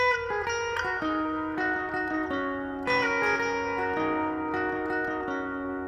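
An electric guitar plays a quick melodic lead riff at full speed, with sustained, ringing notes and slight bends, clear and unaccompanied.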